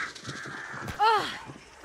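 In the video game Hunt: Showdown 1896, a crow lets out one loud, harsh caw near the end, following a faint earlier call, with quiet ambient game sound beneath.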